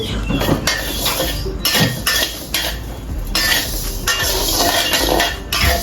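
Rice dry-roasting in a pan for Thai khao tu, stirred so the grains and utensil scrape and clink in a steady rhythmic shuffle, close and fairly loud, with no talking.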